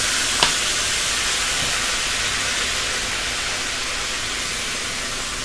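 Rice stir-fried in a wok with soy sauce and sugar at a Thai street food stall, a loud steady hiss with one brief clink near the start and no talk.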